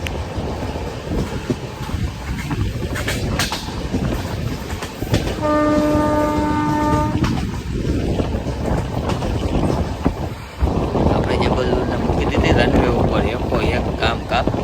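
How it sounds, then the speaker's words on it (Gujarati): An express train rumbles steadily along the tracks with rhythmic clattering, and a horn sounds in the middle, loud and close throughout. "તમે ખાલી ટ્રેકનો અવાજ સાંભળો"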